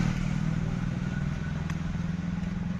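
Bajaj Pulsar motorcycle engine running steadily, a continuous low throbbing putter heard close by without speech.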